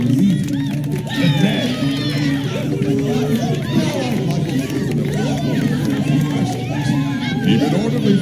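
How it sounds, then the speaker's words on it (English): Crowd chatter from the video game Minecraft Story Mode, a dense continuous murmur of many voices and footsteps, loud and steady throughout with overlapping calls. "We just gotta push through this crowd to get to Gabriel."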